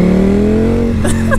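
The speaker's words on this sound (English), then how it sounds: "the glory that is this bike just going down in revs" A 2018 Ducati Panigale V4S motorcycle engine winds down steadily from high revs, its drone falling in pitch, with faint voices at the end.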